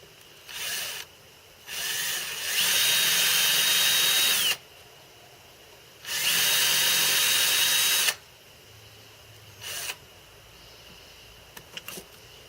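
Drill boring holes into the tailstand of a home-built Gingery milling machine, heard as several separate bursts: two short ones, then two long steady runs of about two and four seconds, then a brief final spurt, with quiet pauses between.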